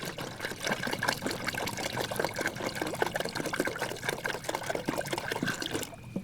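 Water poured steadily from a jug into a container to submerge live ammunition rounds, a continuous bubbling, splashing trickle that stays loud and close throughout with no talk over it.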